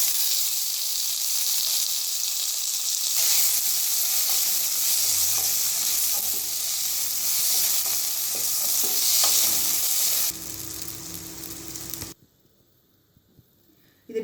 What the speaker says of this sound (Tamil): சின்ன வெங்காயம் நல்லா வதங்கிடுச்சு. அடுத்து பச்சை மிளகாய், அடுத்து தக்காளி